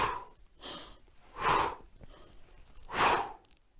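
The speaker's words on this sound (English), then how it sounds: "we're going to breathe in and then breathe out as we execute." Slow, deliberate breaths in and out during a martial arts inward block drill, three strong exhales spaced about a second and a half apart with softer inhales between, close and alone.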